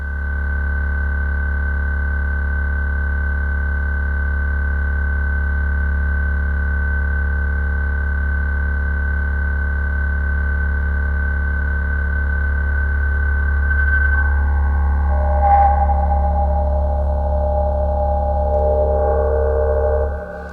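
Sustained synthesizer feedback tones with a droning hum, held steady and then shifting pitch near the end, ringing out with a washy reverberant tail.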